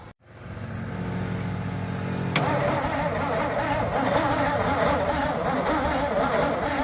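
An International Loadstar 1600 engine cranks slowly and sputters without catching, a steady loud churning that roughens and thickens after a sharp click partway through, with no voices.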